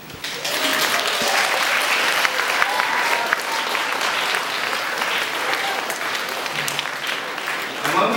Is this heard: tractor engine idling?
no